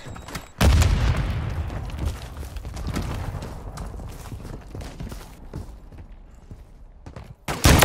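A Semtex grenade blast in Modern Warfare 3 lands with a loud boom early on, followed by ongoing rumble and scattered gunfire thumps, with a second sharp burst at the very end.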